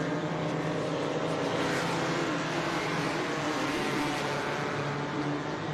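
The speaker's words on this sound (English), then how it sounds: "There's the Devon Porsche." A Devon Porsche race car passing at Watkins Glen during an SVRA vintage race, its engine a loud steady roar that holds throughout with no break, heard trackside without any voices.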